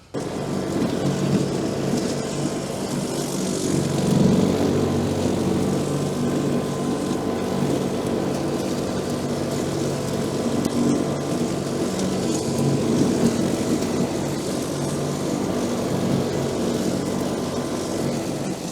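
An ISEKI SRA950 brushcutter with a 95cm cutting deck mows an overgrown field, its engine droning steadily and loudly up close for the whole stretch without any talking.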